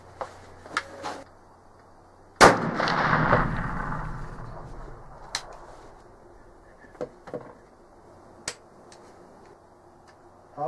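A single sharp report from a Traditions Pursuit muzzleloader rifle loaded with Blackhorn 209, fired at a target outdoors, followed by a few seconds of fading rumble and then scattered faint clicks and ticks.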